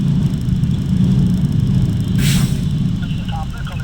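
A truck turns into a lane at a transport company's loading yard in Kanpur, its engine rumbling steadily throughout, with a short, sharp hiss of air brake release near the middle.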